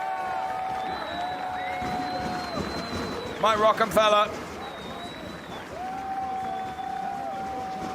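Big crowd at a DTM touring-car race podium ceremony at Hockenheim cheers and applauds in a short burst, heard at a distance beneath a commentator's talk and a public-address announcer.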